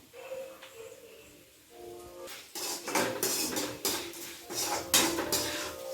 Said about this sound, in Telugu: ఒకసారి దీన్ని కలుపుకుందాం